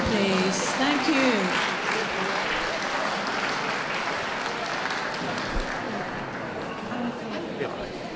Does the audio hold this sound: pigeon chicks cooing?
no